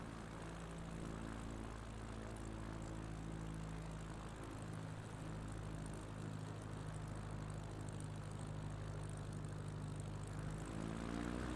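A propeller plane's engine drones steadily in flight over trees during a bush-flying challenge in a flight simulator game, a loud continuous hum with a rising swell near the end and no talking.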